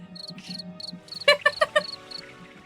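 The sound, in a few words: cricket chirping sound effect played from a soundboard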